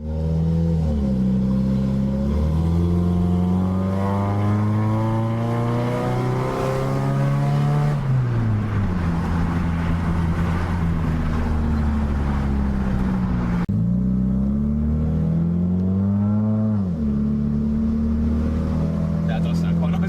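A car engine runs loudly throughout a test drive, revving up through gears in repeated rising sweeps and dropping back between shifts, close and continuous.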